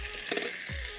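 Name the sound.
frying brinjal and tomato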